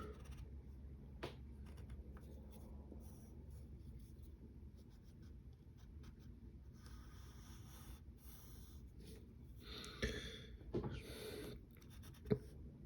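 Pencil strokes scratch across paper in short, faint bursts while sketching a DC Cyborg figure, quiet and close with brief pauses between marks.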